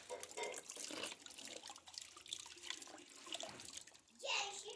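Rainwater poured from a container splashes over hands being washed outdoors at a rural home in Uganda, an uneven trickle and spatter close by, with voices, including a child's, speaking over it.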